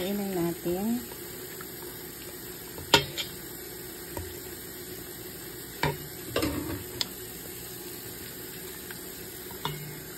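Sugar is stirred into a boba mixture, with soft scraping and occasional sharp clinks of a utensil against the container over a quiet steady hum, and a voice briefly at the start.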